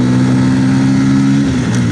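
A Bajaj CT 125X motorcycle engine drones steadily at speed on the road, loud and close, its pitch holding level with a slight drop near the end and no talking.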